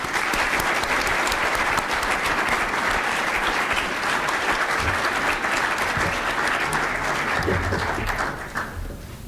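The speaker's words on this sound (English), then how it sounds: "please join with me in acknowledging all of these deserving individuals with your applause" Sustained, dense applause from a large audience at a dental school honors convocation, steady and loud for most of the stretch before thinning out near the end.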